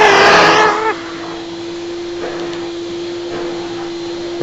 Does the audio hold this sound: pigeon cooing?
no